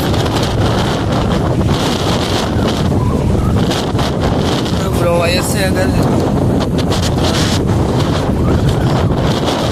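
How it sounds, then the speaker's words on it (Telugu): Loud, constant wind buffets the microphone at the Penna barrage in Nellore, roaring throughout, while someone speaks briefly under the noise. "చాలా విపరీతంగా గాలి"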